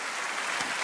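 Dense crowd applause fills a Holland's Got Talent 2014 audition hall in Zwolle after a piano performance, a steady wash of clapping heard briefly and closely.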